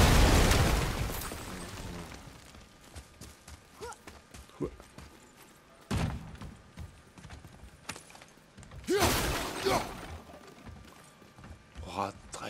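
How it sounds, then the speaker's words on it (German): Several loud blasts and bursts ring out at intervals among clattering sounds in God of War, with a person talking in German in between. "hier kann man auch was hier explodieren lassen"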